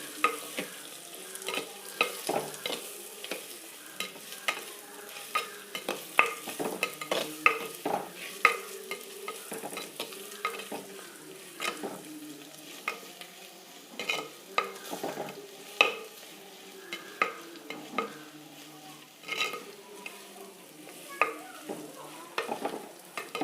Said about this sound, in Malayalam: നന്നായിട്ടൊന്ന് ഇളക്കണം.